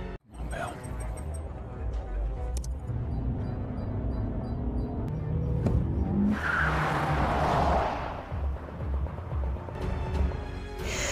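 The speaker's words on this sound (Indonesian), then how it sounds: "akhirnya berangkat menggunakan mobil dengan bantuan GPS ke lokasi" A car in an action film drives off with tires skidding and squealing loudly for a couple of seconds midway, over a continuous engine and soundtrack rumble, with voices in the background.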